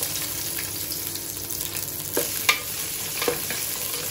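Onions fry in a pan with a steady sizzle, and a few sharp scrapes and clanks of stirring come through near the end, with no one talking.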